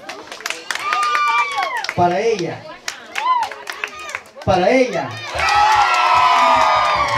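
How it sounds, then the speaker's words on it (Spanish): A crowd at a patronal festival dance contest shouts, whoops and claps for a female contestant, loud and close, with sharp hand claps and cheering throughout and a voice speaking over it. "Grito y aplauso si creen que ganó ella"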